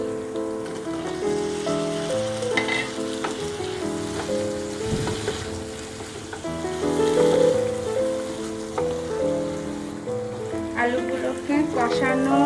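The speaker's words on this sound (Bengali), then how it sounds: "আলুগুলোকে কষানো নেড়ে চেড়ে দিলাম, কষাচ্ছি" Potatoes stir-fry in spice paste for a Bengali fish curry made with katla fish, a soft steady sizzle with occasional stirring scrapes, heard faintly beneath background music.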